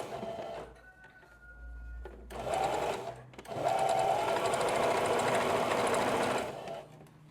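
A sewing machine stitches the hem of a princess-style Aranda blouse, running in short close bursts with brief pauses in between, then settling into a longer steady run before stopping.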